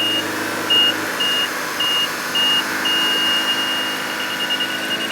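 A repeating electronic warning beep sounds at a steady rhythm over a 2013 VW GTI 2.0L turbo idling during carbon cleaning, with a constant engine drone and workshop hum beneath.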